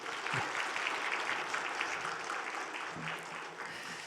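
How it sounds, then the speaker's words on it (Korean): A church congregation at a Korean Sunday worship service applauds the pastor in thanks, steady clapping that fills the room at moderate distance with no talk over it. "목사님께 감사의 박수 한번 부탁드리겠습니다"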